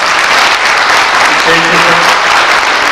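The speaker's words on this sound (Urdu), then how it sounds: "ان کے لیے تالیاں بجائیں" An audience at a formal gathering applauds a senior official's arrival, a dense, loud, continuous wash of clapping that fills the whole stretch, with a voice briefly audible beneath it.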